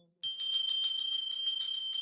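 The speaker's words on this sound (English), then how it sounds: "please ring the bell as you do so" A handheld bell rung during arati worship before a Shivalinga, ringing in a quick, steady series of bright metallic strikes, loud and close, alone with no talk.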